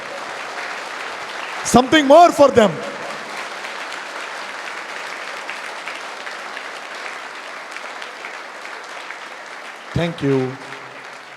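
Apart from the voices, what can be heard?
students clapping for their parents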